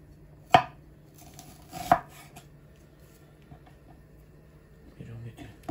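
Two sharp knife chops on a cutting board as an onion is finely chopped, spaced over a second apart, with faint clatter afterward in a quiet kitchen.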